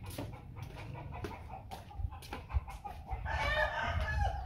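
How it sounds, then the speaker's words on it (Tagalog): Hens cluck in short bursts nearby, then a rooster crows loudly near the end, with faint background noise throughout. "Ingay ng manok."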